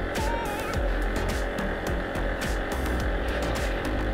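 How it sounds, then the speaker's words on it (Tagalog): An FKM Slick 150 motorcycle engine revs hard and steadily while climbing a hill, a loud continuous drone with a strained, labouring tone and brief rises in pitch, recorded up close with no talking. "naririnig kong nagagalit yung makina"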